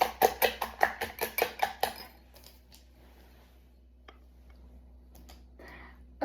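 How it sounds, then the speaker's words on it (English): Custard mixture of sugar and nutmeg whisked by hand in a bowl, a quick run of about a dozen sharp, close ticking strokes over two seconds, then near silence with a few faint clinks. "I'll whisk this up."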